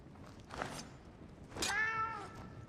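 A cat in the game Assassin's Creed Origins gives a short chirp followed by a clear, drawn-out meow, fairly close and alone.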